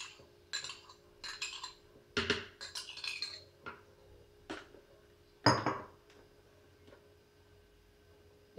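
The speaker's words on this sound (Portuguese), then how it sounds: "Pegando a colher aqui, vou colocar o creme de leite." A spoon scoops cream into a bowl for a gelatin ice cream, giving a few light scattered clinks and taps of metal on the dish, close and fairly quiet, with no talking.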